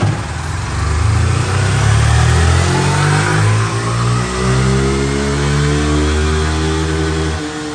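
A Fórmula Racing motorcycle engine held in fifth gear, a loud, close, sustained roar with rising and shifting revs and clear harmonic whine, cutting off abruptly near the end; no talking.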